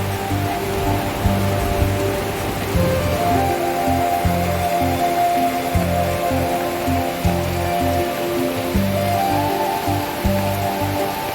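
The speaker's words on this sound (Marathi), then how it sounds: "बघा केवढा पाऊस येतोय" Heavy monsoon rain pours down in Mumbai in a steady, dense wash that holds an even loudness throughout, with no voices.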